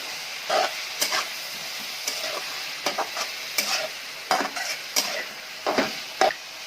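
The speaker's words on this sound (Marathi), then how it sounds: "आता सर्व भाज्या ढोबळी मिरची, गाजर, बीन्स टाकून घ्यायचे." Sliced capsicum, carrots and beans stir-frying in a hot pan, a steady sizzle broken by repeated sharp scrapes and clatters as a utensil tosses the vegetables, heard close up.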